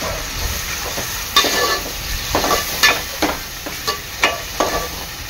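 Onion and tomato puree frying in a pan for an egg curry, a steady sizzle broken by repeated scraping stirs of a spoon against the pan, close and fairly loud with no talking.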